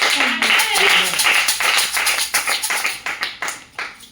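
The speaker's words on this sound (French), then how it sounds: "Est-ce qu'on peut applaudir ce Dieu-là? Est-ce qu'on peut applaudir fort?" A church congregation claps hard during a French-language service, a dense burst of applause that thins into scattered, separate claps over a few seconds, with some crowd voices mixed in.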